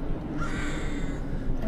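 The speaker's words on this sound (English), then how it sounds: "a lot of birds" Crows cawing in a video game, harsh repeated calls layered over a loud, continuous ambient game soundscape, with no speech.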